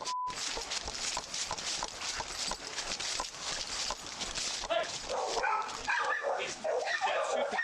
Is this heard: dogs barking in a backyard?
yes